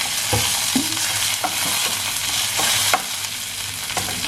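Curry leaves crackle and sizzle loudly in a hot pan for tamarind rice, a constant frying hiss punctuated by sharp pops and stirring scrapes, close up with no voices.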